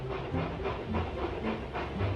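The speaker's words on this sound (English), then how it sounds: "James and Edward puffed into the yard." Continuous steam hiss and rhythmic chuffing of a locomotive, a steady rumbling puff with faint clattering, fairly close.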